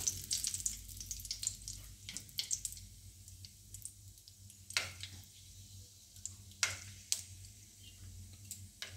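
Panch phoron spices and a bay leaf sizzle in hot oil, a quiet, steady crackle with scattered sharp pops and spits throughout, no talking.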